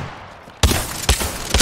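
Video game gunfire: a loud burst of shots cracks out after a quiet start, followed by two more sharp volleys in quick succession.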